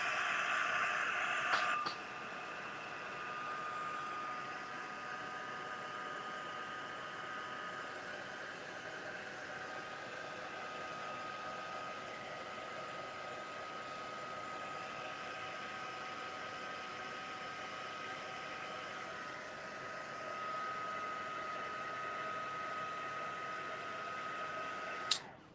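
A hair dryer blows a steady, even whoosh over a wet cloth nappy craft piece. It clicks on near the start and holds a constant airflow hum before cutting off at the end.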